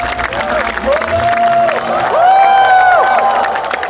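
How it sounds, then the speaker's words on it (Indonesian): A church congregation at a revival service in a sports hall claps and cheers, a broad roar of hands and voices under sustained, sliding musical tones. "Sekali lagi berikan tepuk tangan buat Tuhan."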